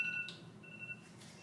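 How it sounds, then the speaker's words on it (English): A phone alarm beeps in steady tones, a thin repeating electronic pattern with short pauses, heard close but soft in a quiet room. "My second alarm."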